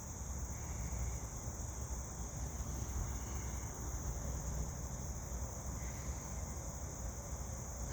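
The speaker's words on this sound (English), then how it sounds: "If you listen, you can hear the cicadas." Cicadas drone steadily in a park, a continuous high-pitched buzz with faint wavering bands that swell and fade, held at moderate distance over a low broadband background hum, with no voices.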